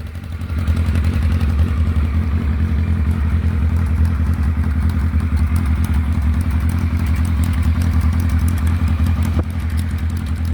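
A vintage motorcycle engine idles steadily and loudly up close, a deep continuous rumble with mechanical clatter and no talking.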